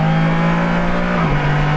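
2023 Can-Am Spyder RT accelerating hard in second gear, a close, steady engine drone holding pitch before a brief dip partway through, loud and continuous.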